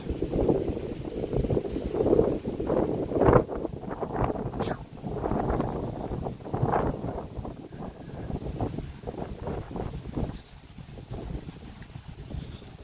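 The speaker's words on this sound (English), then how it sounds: "Sure you guys can hear it on the microphone how windy it is." Heavy wind buffeting a microphone outdoors in East Tennessee in fall, loud low rumbling gusts that rise and fall throughout with no one speaking.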